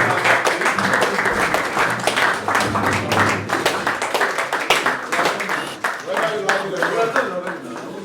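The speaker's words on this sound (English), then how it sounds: "let's give them a round of applause" Standing ovation at an end-of-year party: a close, loud wash of many hands clapping, with sharp individual claps, voices and cheering mixed in and rising toward the end.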